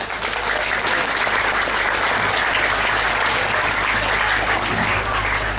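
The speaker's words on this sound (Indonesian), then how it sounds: "Tepuk tangan untuk Nahdlatul Ulama." Sustained applause from an audience at an Islamic religious gathering honouring Nahdlatul Ulama, dense steady clapping filling the whole stretch at a loud, even level with no voice over it.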